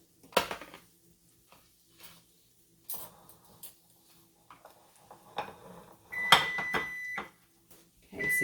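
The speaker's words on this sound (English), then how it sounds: "Okay, so there's my timer." A kitchen timer beeps during French toast making, several sharp tonal beeps near the end after scattered clinks and scrapes of a spatula on the pan, with no talking.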